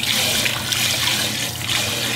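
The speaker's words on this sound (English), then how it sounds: "So put a good bit of water in there." Water poured from a tap into a pot of green beans, a steady close rushing splash lasting the whole stretch with no talk.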